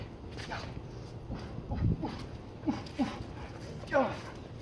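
Dog during play-based engagement training gives a few short whimpers and yips in bursts, close and moderately loud, with a trainer talking in the background.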